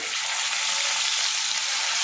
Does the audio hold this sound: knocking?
no